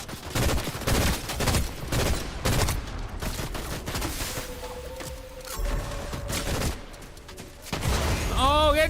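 Video game gunfire, dense repeated shots and bursts rattling almost nonstop, loud and close, with brief tonal game sounds and chirps in between and no talk.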